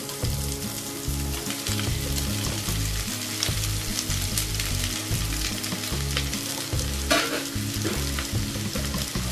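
Shallots and two onions sizzling and frying in a pan for a chicken curry, a steady loud crackle with occasional stirring scrapes, close and continuous with no voices.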